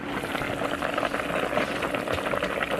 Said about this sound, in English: you guys can see that's boiling really nicely